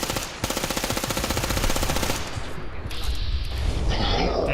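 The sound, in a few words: gunfire in the video game Fallout 4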